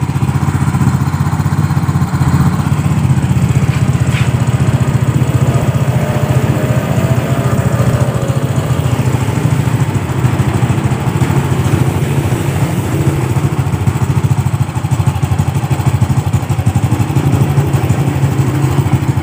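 A motorcycle engine idles steadily and loudly throughout, a constant low rumbling chug with no voices.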